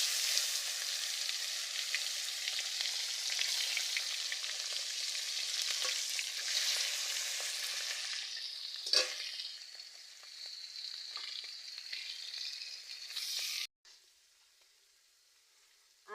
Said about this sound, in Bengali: মাছগুলো ভেজে নেব। কড়াইতে তেল দিয়ে দিচ্ছি।